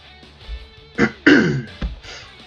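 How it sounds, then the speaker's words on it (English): A man clears his throat and coughs in a few short, harsh bursts, close to the microphone, between quiet pauses, with no talk. "Sorry about the coughing."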